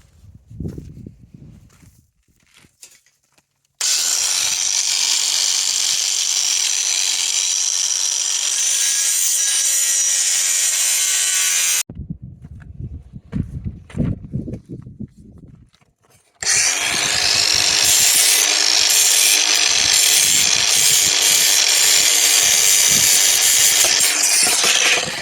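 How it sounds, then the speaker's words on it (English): An angle grinder cuts through metal stove pipe for a wood-burning stove, running in two long, loud, close passes with quieter handling noise between them. "I'm just going to cut this with my angle grinder, most of it."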